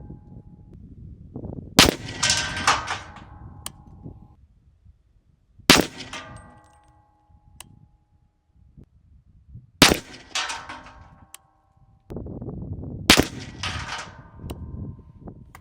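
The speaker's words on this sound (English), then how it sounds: "just gonna throw the Hornady Black back in the gun, the supersonic ammo, and I'm gonna just confirm my 0." A Daniel Defense DDM4 PDW fires Hornady Black 110 grain VMAX supersonic rounds, four sharp, loud shots spaced several seconds apart outdoors, each followed by a brief ringing clang and a fading echo.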